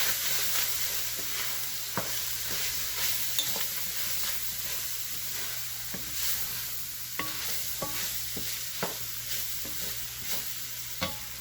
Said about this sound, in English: Just sprinkle it all around and then give it a good stir.